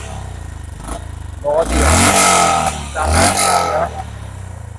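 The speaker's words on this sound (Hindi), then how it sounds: "एग्जॉस्ट नोट थोड़ा सा लाउड है" A Honda CB350RS motorcycle engine revs up loudly twice in neutral, with a deep throaty exhaust roar, close by, while someone talks over it.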